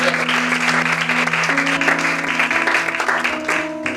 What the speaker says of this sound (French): Acclame maintenant pour ta présence. Acclame maintenant pour ton nom.